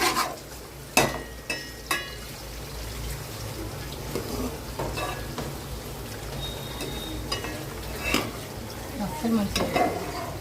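Onions fry in a pan for a Telangana-style dish, giving a soft continuous sizzle with scattered clinks and scrapes of a stirring spoon against the pan.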